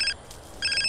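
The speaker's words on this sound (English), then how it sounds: "Answer the damn phone." A telephone rings in the video game GTA San Andreas: two bursts of a bright, electronic double-tone ring, loud and close, broken by a short pause, with no talk.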